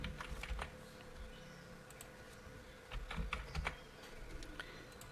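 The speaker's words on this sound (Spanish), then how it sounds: "Vamos a escribirle una contraseña." Typing a password on a computer keyboard makes quiet, irregular key clicks in short bursts separated by brief pauses, close but soft.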